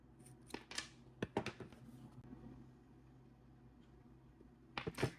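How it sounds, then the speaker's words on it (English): Scissors snip through a boho bracelet cord right beside the knot, giving a few sharp close cuts, a cluster at the start, a quiet stretch, then a couple more snips at the end. "cut your cord right close to the knot"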